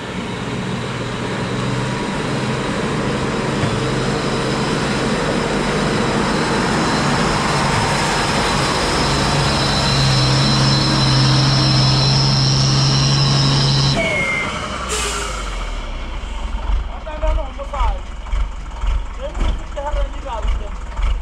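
Heavy trucks arrive at a construction site with a loud, steady engine rumble and droning tones for about fourteen seconds, then the engines cut off and give way to scattered clatter and knocks, with voices in the background.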